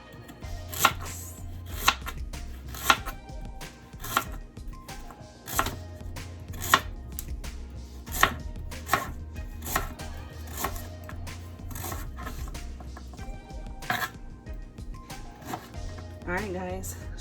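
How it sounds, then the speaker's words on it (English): A knife chops carrots on a cutting board as prep for Jamaican beef stew, a steady run of sharp, close knocks arriving in quick bursts with short pauses, under a faint low background hum. "I'm gonna slice up my carrot."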